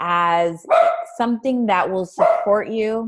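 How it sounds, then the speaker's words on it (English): A male dog barks a few times in short bursts, partly under a person talking steadily throughout. "That is my dog."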